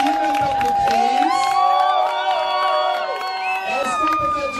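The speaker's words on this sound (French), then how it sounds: "Est-ce qu'on peut faire du bruit pour Chris?" A crowd at a baptism and first communion celebration cheers and whoops for Chris, with many voices, including children's, shouting loudly and close together.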